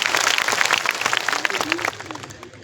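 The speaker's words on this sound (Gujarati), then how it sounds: "એકવાર જોરદાર આ સંતો માટે તાળીઓ પાડી" A crowd at a community meeting claps for the saints in a loud, dense round of applause that fades toward the end, with a voice speaking over it.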